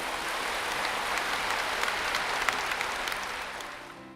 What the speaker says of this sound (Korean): 우리 하나님께 박수를 한번 감사하십시오.